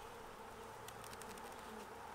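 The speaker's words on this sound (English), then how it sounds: "The bees have done extremely well this spring." Honey bees hum steadily around a wooden hive box in spring, a soft, continuous buzz with a few louder passes of individual bees near the end.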